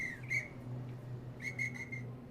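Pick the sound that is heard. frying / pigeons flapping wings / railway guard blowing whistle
railway guard blowing whistle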